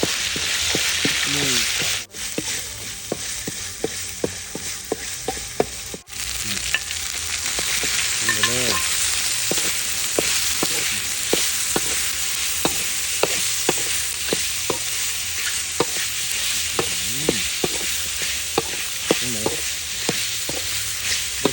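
Steady loud sizzling of Thai curry paste frying in a hot pan, with scraping and stirring clicks scattered throughout, close up and without speech.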